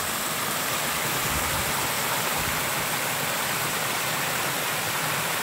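Craig Hill Waterfall in Tobago roars as a dense, steady wash of falling water, loud and close, unchanging throughout with no voices.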